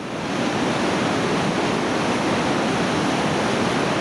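Steady, dense rushing of turbulent water roars without pause, loud and close, like churning rapids on the Lower New River in West Virginia.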